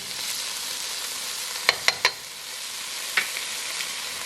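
Carrots, garlic and onions with celery sautéing in a soup pot for chicken gnocchi soup, a steady low sizzle broken by a few sharp clicks and taps of a utensil against the pot, with no talking.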